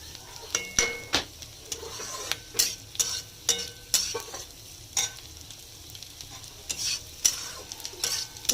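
Fried rice frying in ghee, a sizzling pan under repeated sharp clacks and scrapes from a spatula stirring against the metal, heard up close with no talk.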